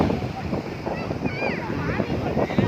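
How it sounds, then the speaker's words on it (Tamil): Strong seashore wind buffets and roars across the microphone beside a harbour, with waves washing underneath and someone talking over the gusts. "இப்படி நெருக்கமாக உட்காந்து காற்று நல்லா அடிக்குது."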